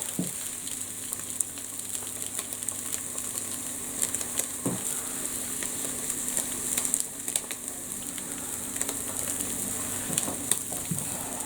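An egg fries in a pan with a constant bright sizzle, close and steady, with occasional faint clicks from a utensil and no talking.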